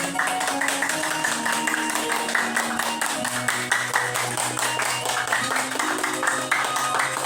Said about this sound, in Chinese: 好，请给自己掌声鼓励，谢谢。